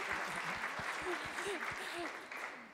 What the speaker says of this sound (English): Alors, une belle main d'applaudissements pour Karina, finaliste.